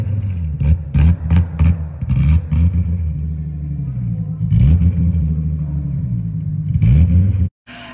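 Car engine running unevenly after its tune was removed, the idle surging and dipping in a rumbling, wavering pattern with repeated short bursts before it cuts out abruptly near the end.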